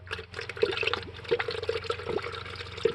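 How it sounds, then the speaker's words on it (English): Coolant glugs and trickles from a jug into the radiator of a Toyota Avalon, an uneven, bubbling pour with small gulps and splashes, fairly quiet and close. "That is the weirdest fucking pour I've ever seen."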